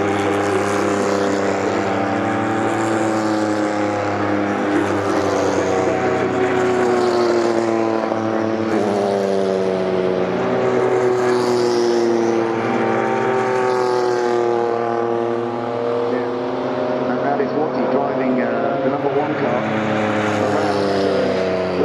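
Porsche 956 and 962 Group C race cars rolling at low speed behind a pace car at Goodwood, a continuous loud engine drone with steady harmonic tones that slowly waver in pitch throughout.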